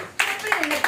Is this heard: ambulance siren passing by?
no